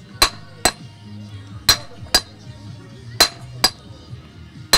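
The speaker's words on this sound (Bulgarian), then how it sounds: "с помощта на този чук и на това чукало правим няколко удара." A hand hammer strikes a punch on a coin die during a minting demonstration, giving seven sharp metallic clinks at irregular intervals with faint background murmur between strikes.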